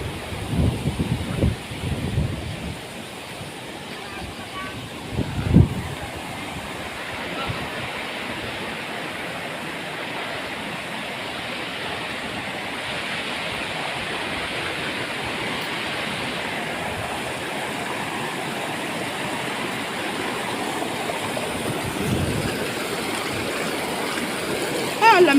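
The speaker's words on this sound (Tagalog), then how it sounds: "Ito guys, tubig din galing yan sa bundok guys." Mountain stream water rushes downhill in a steady, broad hiss that lasts throughout, with a few louder splashes and knocks near the start and occasional wind buffeting the microphone.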